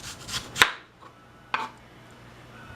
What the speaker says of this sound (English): This onion is already messed up anyhow, so I'm cutting it